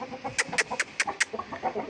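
Roosters kept for cockfighting, offered for sale, give a run of five short, sharp clucking calls in quick succession, close by, over a busy background of other fowl noise.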